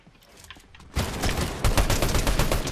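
Dense, rapid gunfire from a Fortnite match bursts in loudly after about a second of quiet game ambience, a continuous volley of overlapping shots that carries on to the end, with no talk.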